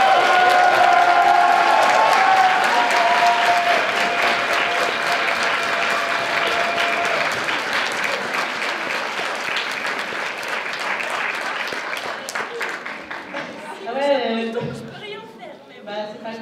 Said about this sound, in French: un tonnerre d'applaudissements à tous ces participants qui nous offrent toujours un show